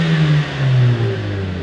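A Mercedes-AMG CLA 45S in sport mode with no rev limiter, its engine revving hard and climbing in pitch with a steady, close, loud roar.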